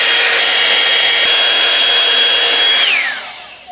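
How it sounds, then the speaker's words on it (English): A hot air straightening tool on medium heat is drawn through curly hair, giving a steady, loud rushing whoosh of airflow that holds evenly and then trails off near the end. "I end up doing a couple passes with this hair tool"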